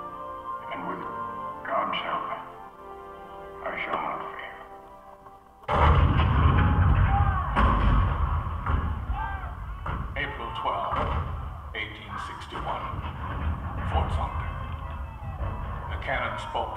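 A sudden heavy boom of cannon fire bursts in partway through a Hall of Presidents attraction show, followed by sustained rumbling blasts and loud thuds over a noisy battle din.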